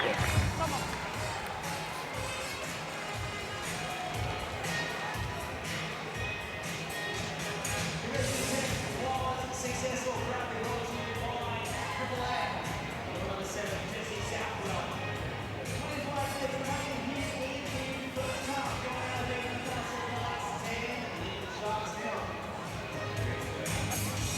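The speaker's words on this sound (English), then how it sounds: "the crowd are absolutely building. They are loving it" Crowd noise builds steadily at a women's NRLW rugby league match between Newcastle Knights and Cronulla-Sutherland Sharks, a dense continuous roar of spectators, with a commentator talking over it throughout.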